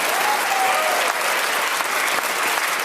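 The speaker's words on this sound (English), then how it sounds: "you can give yourself a round of applause if you want to" A studio audience at a radio panel game breaks into steady, full applause close by, dense and continuous for the whole stretch with a bright murmur of crowd underneath.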